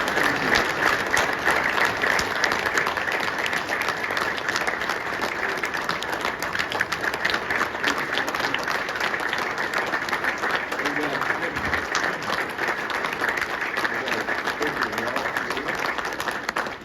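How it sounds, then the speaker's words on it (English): An audience at an agricultural award ceremony, the No-till on the Plains soil legacy award, gives sustained applause, dense steady clapping from a crowd that carries on loudly for many seconds. "let's give a round of applause for Dwayne."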